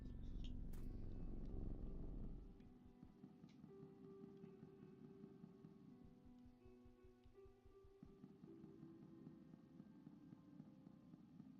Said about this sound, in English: Ah, there's the pocket cat.